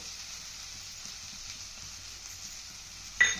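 Spices for a spicy Kolhapuri mutton curry fry in a pan with a steady, soft sizzle, and a brief louder clatter comes near the end.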